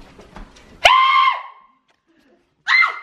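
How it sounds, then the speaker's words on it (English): A person yells loudly in a yell contest, a sharp sustained shout near the microphone followed by a second shorter yell after a pause, with brief talk at the start. "We're having a yell contest."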